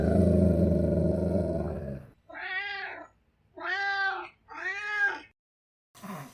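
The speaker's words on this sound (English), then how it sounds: "with the meows of the Mackie Meow, we begin another live show" A cat named Mackie Meow lets out three drawn-out, wavering meows in close succession, loud and close, after a brief stretch of other sound at the start and followed by a short trailing noise.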